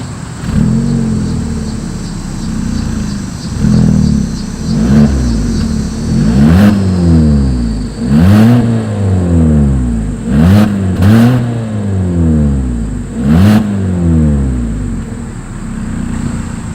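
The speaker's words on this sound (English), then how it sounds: "As always, here is that exhaust clip." A 2020 Hyundai Kona's engine revs repeatedly through its exhaust, each rise and fall deep and loud, with pauses between the throttle blips.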